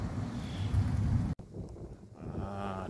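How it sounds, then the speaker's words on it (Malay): Strong wind before rain buffets the microphone in a steady roar at a historic site, broken by a sudden short gap before the gusting resumes. "Hari nak hujan, angin pun kuat."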